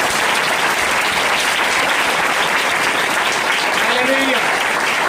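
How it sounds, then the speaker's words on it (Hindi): A Good Friday church congregation applauds loudly for Jesus, a dense, continuous roar of clapping that fills the room evenly from start to finish. "यीशु के जलाल के लिए जोरदार तालियां बजाएं।"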